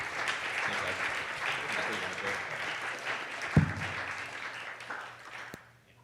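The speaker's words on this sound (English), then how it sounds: "So give yourselves a round of applause." Attendees at a digital creators retreat applaud themselves with sustained clapping across the room, a few sharp knocks and scattered voices mixed in, before the applause tapers off toward the end.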